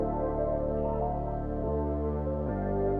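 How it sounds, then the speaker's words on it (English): A synth pluck one-shot drenched in Valhalla VintageVerb reverb rings out as a wide, sustained wash of tone, fairly quiet, with the pitch shifting partway through and no voices. "Next thing I added was a pluck, and this is from a one-shot kit."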